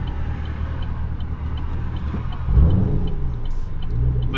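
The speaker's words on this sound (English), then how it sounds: "We get some exhaust going real quick." Exhaust from a 6th gen Chevrolet Camaro SS fitted with Speed Engineering headers, a steady low rumble that swells louder and heavier about halfway through, as if revving or pulling off nearby.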